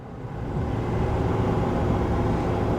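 A Chevy Silverado 2500 pickup with the L8T gas V8 and 10-speed gearbox, towing up a 6% grade in about sixth gear, swells to a steady, broad engine drone under light 20% throttle, filling the cab with constant rumble.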